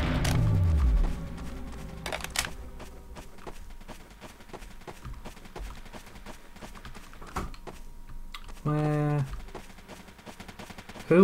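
Video game gunfire: scattered sharp shots and a short burst of rapid fire amid footsteps and game sounds, moderately loud with gaps of quieter ambience between.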